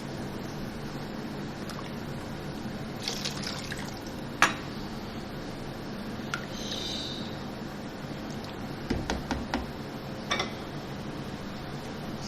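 Flour slurry is poured a little at a time into a pot of nalli nihari while a spoon stirs it, giving faint liquid sounds and a few soft clinks against the pot.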